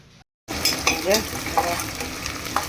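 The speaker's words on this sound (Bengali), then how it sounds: "পেঁয়াজ ভাজতে বসিয়ে দিয়েছি তাই না শুনতে পাচ্ছ কি না" Onions fry in a pressure cooker while being stirred, giving a continuous close sizzle broken by scraping strokes after a brief silent gap at the start.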